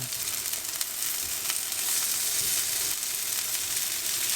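Spiced aubergine slices fry in a pan with little oil, giving a steady, even sizzle close by with no talking.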